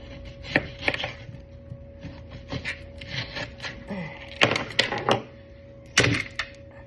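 A knife chops onion on a board for Jamaican green seasoning, making sharp, irregular thuds close up with a steady low hum behind them.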